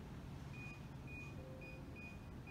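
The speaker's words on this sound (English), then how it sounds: "there's your beep" Faint repeated electronic beeps, short tones in an irregular rhythm over a steady low rumble of machinery.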